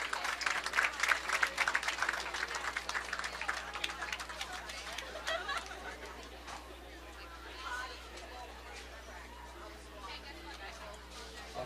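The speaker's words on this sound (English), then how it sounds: "let's all send these participants off with a nice round of applause" Spectators at a college bowling invitational clap and cheer for the participants, the applause loud at first and then thinning out into crowd chatter and murmuring in a large echoing hall.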